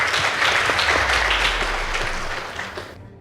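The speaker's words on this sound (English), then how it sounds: "Please give them a round of applause" An audience claps for a girls' high school team as debate results are announced at a national knockout, with loud, dense applause that fades out over about three seconds.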